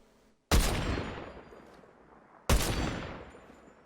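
Two loud, sharp sniper rifle shots from Fortnite ring out about two seconds apart, each followed by a long echoing decay.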